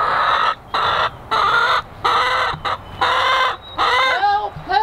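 Chickens on a walk give loud, repeated squawking clucks in a run of distinct bursts, close by and alone, with no talk.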